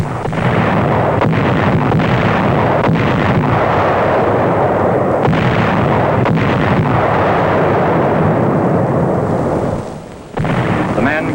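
Massive naval bombardment from WWII battleships pounding Roi-Namur in the Marshall Islands, 1944: a loud, continuous roar of overlapping explosions and heavy gunfire, dense and rumbling throughout with sharper blasts, dipping briefly near the end.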